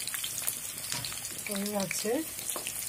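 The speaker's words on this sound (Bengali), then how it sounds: "সিঙ্গারা ভাজা হচ্ছে" Singaras frying in hot oil in a home kitchen give a soft, continuous sizzle and crackle close by, while a person speaks briefly over it.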